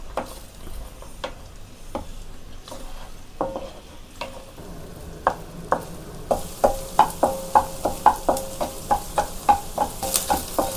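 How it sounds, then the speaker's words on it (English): Beaten eggs seasoned with pepper and salt scramble in a pan, a soft sizzle under a series of sharp spatula taps and scrapes that grow quicker and more regular toward the end. "So I'm going to add this to the pan, and let's make scrambled eggs."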